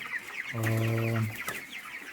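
Broiler chickens around 23 days old cluck and call in a poultry house, one bird giving a drawn-out tonal cluck up close while softer chirps and murmurs from the flock fill the background.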